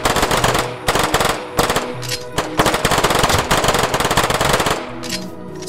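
P90 submachine guns firing in a Minecraft Bedrock guns mod, loud continuous rapid bursts broken by a few short pauses, dense and close with no speech.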